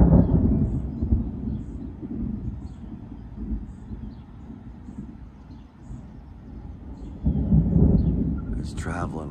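Deep thunder rumbles on through a heavy storm with wind and rain, rolling low and steady. It swells again near the end, and a voice speaks over the noise.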